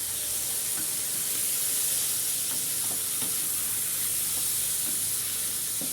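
Liver and onions being stirred in a hot frying pan, with a steady, dense sizzle and hiss throughout and faint scrapes of stirring, close up, without talk.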